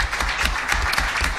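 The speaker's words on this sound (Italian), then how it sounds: "gli rivolgo un applauso e quindi grazie" An audience at a conference on social policy in Sardinia applauds with brisk, steady clapping that fills the whole short moment with no talk over it.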